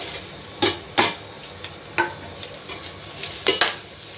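Curry leaves and onions frying in a pan for chicken gravy, with a quiet sizzle under several sharp scrapes and clinks of a spoon stirring against the pan.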